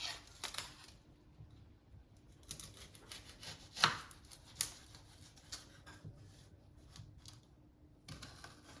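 A knife chops an onion on a board in a home kitchen, giving a run of sharp, close cuts in irregular bursts with short pauses between them and no voices over them.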